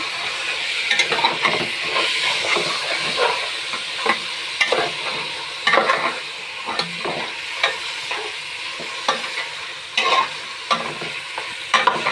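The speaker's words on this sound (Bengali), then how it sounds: "মশলা সুন্দর করে কষানো হয়ে গেছে তেল বেড়ে গেছে মশলায় এখন মাংসটা দিয়ে দিব মাংসটা দিয়ে দিচ্ছি" Beef added to sizzling spiced oil and stirred while cooking a Bangladeshi-style mezbani beef bhuna, a loud, close, continuous fry hiss broken by repeated scraping stirs of the pan.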